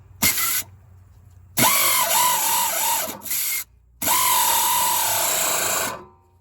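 An air impact wrench loosens bolts on a GMC 6500 truck's water pump, firing in several loud rattling bursts of varying length with short silent gaps, the last burst long and steady before fading out.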